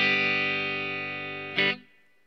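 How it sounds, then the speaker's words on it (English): A clean Fender Stratocaster electric guitar plays straight into a Fender Twin amp with Celestion Vintage 30 speakers. A single chord rings out and slowly decays, with a brief bright scrape near the end and no voices. "here's the sound of the guitar straight to the amp"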